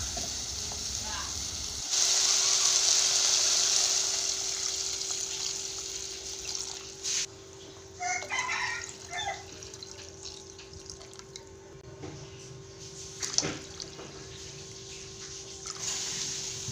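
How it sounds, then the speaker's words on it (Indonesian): About a litre of water is poured into a pot of browned, slightly blackened meat for a 7-month baby's food, giving a loud hissing rush for roughly two seconds that fades into a quieter simmering sizzle with scattered small clinks. "lalu aku mau tambahkan sekitar 1 liter air"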